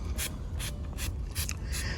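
Neem oil and dish soap mix sprayed onto a tree in a container garden, five short hissing bursts in a steady rhythm, close by and moderately loud.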